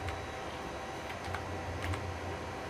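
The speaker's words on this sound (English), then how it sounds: "And I'll type in a password." Quiet, rapid tapping of keys on a computer keyboard as a password is entered, a short run of soft, irregular clicks close by with faint background hum.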